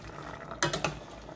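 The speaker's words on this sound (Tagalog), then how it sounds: "Tapos, haluin lang natin." A spoon stirs chicken feet adobo in a pan, giving a few quick scraping clatters near the middle over a soft simmering background.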